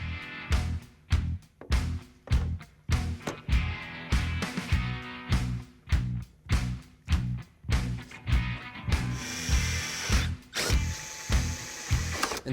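A power drill whirs in repeated short bursts, about a dozen in a steady rhythm, loud and close, grinding into a metal plate.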